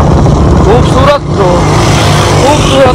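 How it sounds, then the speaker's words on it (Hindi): Motor vehicles, likely motorbikes, pass steadily along a road near Fort Monroe, a continuous loud engine and road roar with a brief dip midway, while someone talks over it. "ये जा रहे हैं जी हमारे बाइकर, ये जा रहे हैं लोग, ये जो स्पीड में जा रहे हैं आगे"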